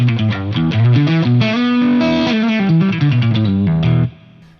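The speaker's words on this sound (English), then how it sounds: "the option of running a Piezo pickup through my amplifier," A PRS P22 guitar's piezo pickup played through an amplifier with a little drive, a run of loud, bright single notes and sliding phrases ending in a brief fading tail.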